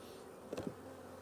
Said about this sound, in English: there's plenty of bees in there